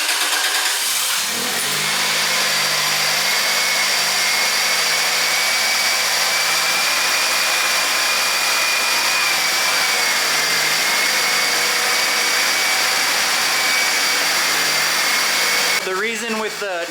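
A Toyota Celica GT-S engine fitted with a short ram intake runs close by, a loud continuous mechanical drone with a rising whine that holds steady for the whole stretch, then a sharp change at the end.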